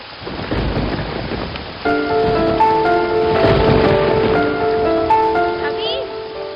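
A steady downpour with low thunder fills a film scene, the rain's hiss continuing beneath sustained musical tones and voices that join partway through.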